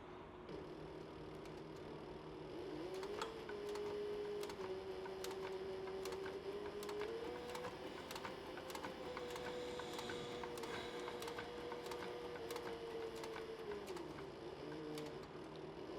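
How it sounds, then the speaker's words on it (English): A sewing machine stitches across the bottom of a cross-body sling bag, its motor running in a steady, continuous whir with rapid needle ticks and slight pitch shifts as the speed changes. "now I'm going to sew up the bottom end of it here"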